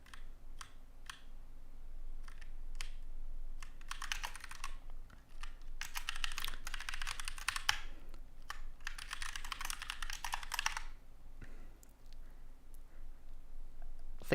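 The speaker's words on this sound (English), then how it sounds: "The keyboard ASMR is good. It's brown switches. They're really nice. They're not overly clicky" Mechanical keyboard with brown switches being typed on, a steady stream of soft, muted keystrokes that speed up into dense bursts of fast typing, close and fairly quiet, with no talking.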